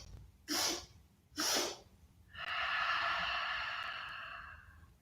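Children take quick, sharp sniffs through the nose during a kids' yoga breathing exercise, two short bursts followed by a long, steady exhaled breath that fades slowly, close and fairly loud.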